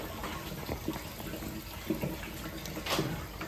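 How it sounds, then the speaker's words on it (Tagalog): Water runs steadily from a tap into a cooking pot being filled for spaghetti, a continuous hissing splash with faint clinks, close and alone without talk. "Lagyan ko tubig to."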